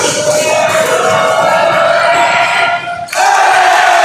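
Loud crowd of students in a school gym at a high school basketball game, sustained roaring cheers and whoops with a brief dip before the noise surges back up.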